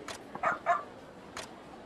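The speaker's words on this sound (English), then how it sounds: "Dog does seem to like those bones." A dog in the Like A Dragon: Ishin video game gives a few short, soft yips and barks in quick succession, fairly quiet, with no talk over them.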